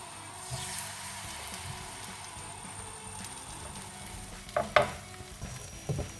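Sweetcorn fritters fry in a pan with a steady, soft sizzle throughout, punctuated near the end by a few sharper crackles and pops, with no talking.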